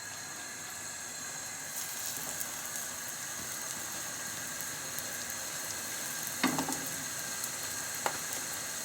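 Vege burgers fry in a pan with a soft, steady sizzle, faint and close, broken by a couple of brief clinks or pops partway through.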